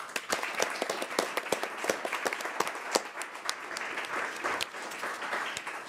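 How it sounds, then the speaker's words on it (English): Audience at a Kent City Council meeting applauding for Dave, steady dense clapping from a modest crowd running throughout with no voices. "So I'd like to give Dave a round of applause as well"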